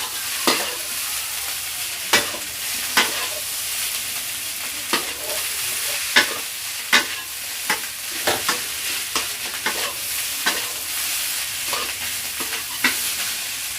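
Street-style fried rice (nasi goreng) is stirred in a hot pan. A constant sizzle runs underneath repeated sharp spatula clanks and scrapes that come at irregular intervals, close and loud, with no talking.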